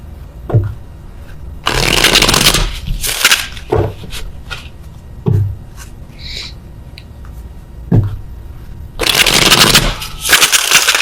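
Tarot cards get shuffled in bursts of riffling and flapping, with soft taps and knocks of the deck between them, close and fairly loud, with no talk.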